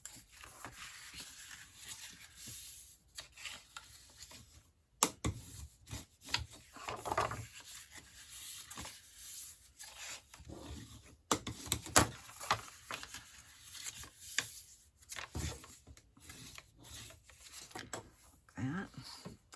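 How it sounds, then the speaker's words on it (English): Scored cardstock is folded and burnished for a gift box, giving soft rubbing and scraping strokes with a few sharp creasing taps, quiet and close with no talk. "We're going to take and fold and burnish all of our score lines."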